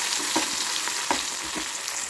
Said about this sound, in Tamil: இதில் வந்து நம்ம அந்த வத்தலை பொரிச்சிட்டு நல்லா வறுத்துட்டு குழம்புல சேர்த்துக்கலாம்.